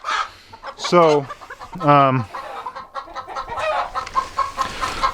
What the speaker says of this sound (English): There's a chicken over there.